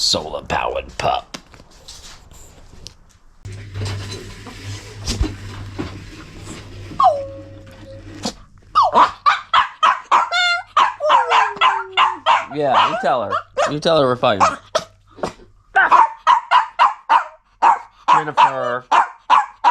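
A dog barks and howls in a series of rising, wavering calls close by, mixed with people talking and laughing, with a low solar-powered hum underneath.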